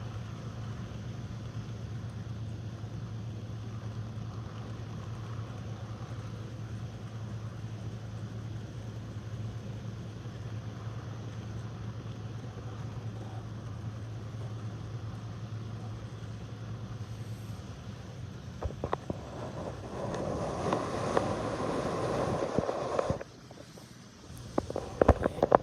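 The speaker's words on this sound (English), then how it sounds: "So we will see if it can pull this entire train all the way through" A model train runs through an apartment with a steady low motor hum that holds for most of the stretch, then gives way to louder clattering and rumbling near the end before a brief drop.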